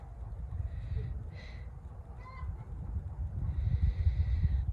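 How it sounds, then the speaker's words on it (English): Faint, distant hen clucks rise intermittently from inside a hen house over a low rumbling background, a few soft calls spread across the stretch. "they're clucking away in the hen house"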